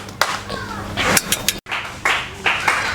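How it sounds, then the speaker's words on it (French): Bursts of clapping from a church congregation during a Sunday service, sharp and close, coming in waves with a short pause, mixed with a few voices. "les révérends pasteurs Audrey, Kazembola sous nos acclamations"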